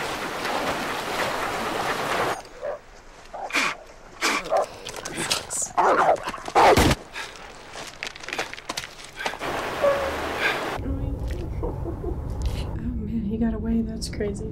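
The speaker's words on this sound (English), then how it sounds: "That dog is a beast." A dog in a movie barks in several loud, close bursts amid a noisy soundtrack with water and boat sounds, mixed under people talking and reacting.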